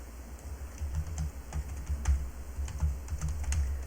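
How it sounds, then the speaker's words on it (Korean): Keys pressed on a computer keyboard in an irregular, steady patter of soft clicks, close and moderately quiet, with no talking. "Alt 키를 누르고 드래그 끌어주면 됩니다"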